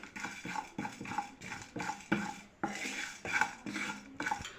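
Ingredients dry roasted in a pan over a medium-low flame, with a spoon scraping and tapping the pan in a steady rhythm of repeated strokes, fairly quiet and close, with no talking.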